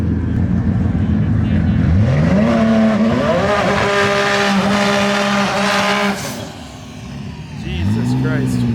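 Race cars launch hard down a drag strip at the TX2K22 event, loud engines roaring and rising in pitch through the gears as they pull away, then a second car revving up near the end.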